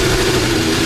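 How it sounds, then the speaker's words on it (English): Formula 1 car engine at Jeddah's Saudi Arabian circuit, running rough and out of sync, juddering and hesitating with a grumbly, uneven drone held steady and loud throughout the short stretch. "Lots of juddering, big hesitations from the engine."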